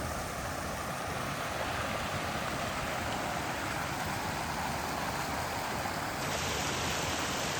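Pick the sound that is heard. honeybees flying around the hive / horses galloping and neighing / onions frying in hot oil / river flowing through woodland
river flowing through woodland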